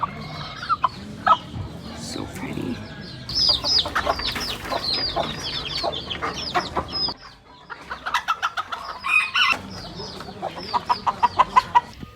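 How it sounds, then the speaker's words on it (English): Miniature rooster and small bantam chickens clucking and calling in a backyard flock, with a series of short, sharp squawks and clucks at close range and a brief spoken comment in between. "This is our miniature rooster."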